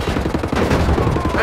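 Rapid gunfire from a Wolfenstein: The New Order firefight crackles in dense, overlapping bursts, loud and close, with a clamour of game action layered beneath.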